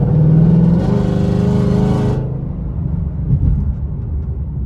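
A 2021 Ford Mustang GT V8 fitted with long tube headers gets a short blip of throttle, a loud close rev that rises and then drops back to a deep, rumbling idle.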